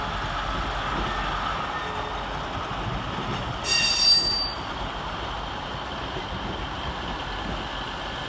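Two Class 150 diesel units, 150-106 and 150-148, pull out of Manchester Piccadilly station on an empty stock move to Newton Heath depot with a steady rumble, and a brief high wheel squeal rises midway.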